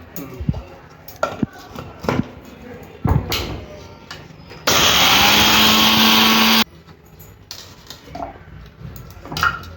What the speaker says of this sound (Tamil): ஆறின உளுந்தம் பருப்பு ஃபஸ்ட்டு கொஞ்சம் அரைச்சிக்கலாம்.